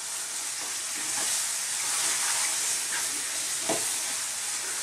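Mushroom and sweetcorn cream pasta sauce with Parmesan cooking in a pan, giving a steady soft sizzle and bubbling hiss with a few faint stirring clicks, close and alone.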